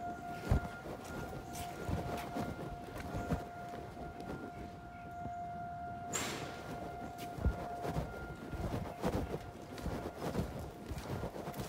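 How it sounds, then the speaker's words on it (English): Civil defense sirens sound a tornado warning across Summit County, including a 2001-DC siren, as two steady distant wailing tones that hold throughout, with wind and rumbling outdoor noise underneath. "I might want to hang out for a little bit and listen to the sirens."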